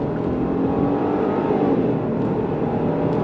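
A 2026 Genesis GV70 SUV accelerating on throttle in comfort mode, a smooth, steady engine hum with a gently rising pitch over road and cabin noise, heard from inside.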